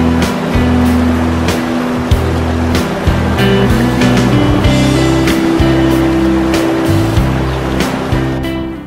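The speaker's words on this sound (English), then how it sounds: "I always stop off at this San Gabriel River crossing just to watch the water flow." Steady, loud rushing of the San Gabriel River at a crossing fills the whole stretch, a broad continuous roar with low rumbling underneath and no voices.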